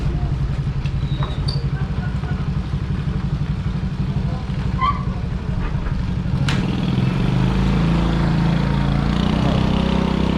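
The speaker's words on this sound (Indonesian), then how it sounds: "Ini motor lama ya." An old motorcycle engine idles steadily and close by at a riverside ferry crossing near Belakang Padang and Batam, a continuous low chugging that lasts throughout, with a faint voice now and then.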